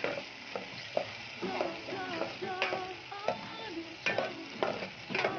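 Potatoes frying in a pan are stirred, giving repeated scraping and clacking strokes over a steady sizzle, close and moderately loud.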